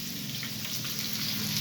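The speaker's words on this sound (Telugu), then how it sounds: "ఇది రసం మరుగుతుంది చూడండి" Rasam bubbles in a pot on the stove, a soft, steady simmering hiss with faint popping, close and fairly quiet, with no voices.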